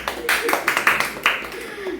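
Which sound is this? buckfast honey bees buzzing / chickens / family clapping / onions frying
family clapping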